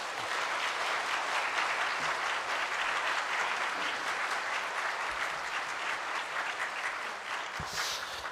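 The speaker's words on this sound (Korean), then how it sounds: "우리 박수로 환영하도록 하겠습니다" Church congregation applauding to welcome a visiting pastor to the pulpit, a sustained, even wash of many hands clapping in a large room, filling about eight seconds with a faint voice near the end.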